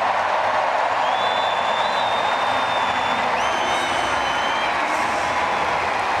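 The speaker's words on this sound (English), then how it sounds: "And they see her on the big screen and they start to cheer." A large stadium crowd at a 2016 London Diamond League athletics meet sends up a steady, far-off roar of cheering and applause that fills the whole stretch, with no one speaking close by.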